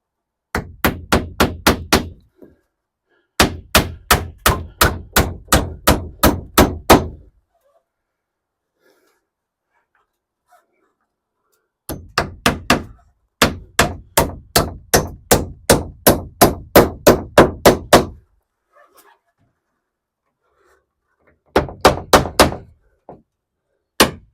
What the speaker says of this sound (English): I'll finish nailing that off later on